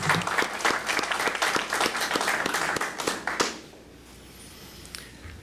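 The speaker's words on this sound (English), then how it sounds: "give them one more round of applause" An audience at a board meeting applauds steadily for several seconds with dense, loud clapping, which then stops abruptly and leaves a quiet room.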